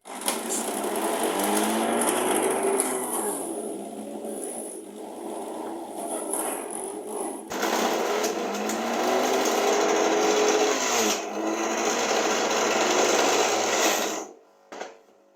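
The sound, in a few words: grinder extracting ginger juice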